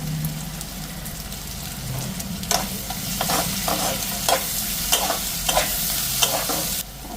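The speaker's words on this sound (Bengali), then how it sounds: "পেঁয়াজ ভাজা হয়ে গেছে এখন এদিকে রসুনটা দিয়ে দিলাম" Garlic goes into a pan of fried onions and sizzles steadily in the oil, with a spoon scraping and stirring at intervals over the constant crackle. Nobody speaks.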